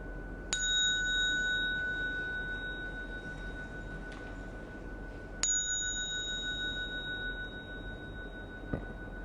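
Small bell struck twice during a Buddhist ceremony, each bright metallic ping ringing out and decaying slowly in a quiet room, with a faint tap near the end.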